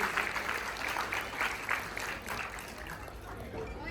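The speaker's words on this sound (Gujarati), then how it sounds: "જોરદાર તાળીઓથી ફરીથી એક વખત સ્વાગત કરીશું." An audience at a community ceremony at Alankar Cinema in Bardoli applauds, a steady wash of many hands clapping that holds for several seconds at moderate volume, without distinct speech.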